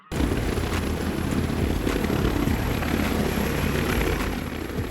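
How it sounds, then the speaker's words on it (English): An ambulance medevac helicopter flying, a loud, continuous rotor and engine roar with a steady rhythmic beat and a high whine that holds close and even throughout. "Ambulance helicopter, also known as a medevac helicopter"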